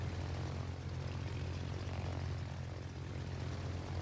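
Carrier-launched propeller planes in a naval video game give a steady, droning engine hum with a deep low rumble, continuous and unchanging for several seconds, with no talking.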